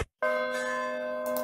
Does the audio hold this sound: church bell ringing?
yes